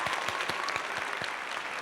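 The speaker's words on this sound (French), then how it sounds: "Vive l'amour, on applaudit" A studio audience claps steadily for a brief moment, a dense, even patter of many hands with no voices over it.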